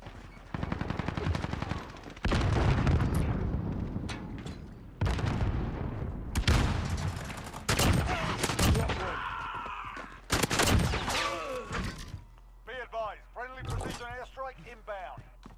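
Rapid bursts of AA-12 automatic shotgun fire with explosive rounds in the Modern Warfare video game, loud booming volleys in quick succession with crackling blasts, while a player talks over parts of the gunfire.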